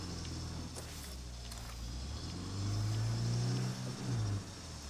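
A battered car in State of Decay 2 drives with a low, steady engine rumble that swells louder midway as it picks up revs, then eases back down, with no talking over it.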